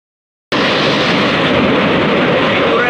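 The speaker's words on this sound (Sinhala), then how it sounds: "12යි 5 ට්‍රේන් එක." After half a second of silence, the 12:05 diesel multiple unit on the Puttalam to Colombo line near Battuluoya's black bridge comes in as a loud, steady rumble and roar that holds to the end.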